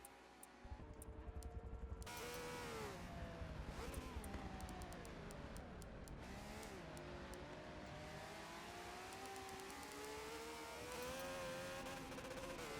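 An onboard 1960s Formula 1 race car in a racing game at Road America, its engine loud and close, revving and shifting through gears with rising and falling whine over several seconds of hard driving.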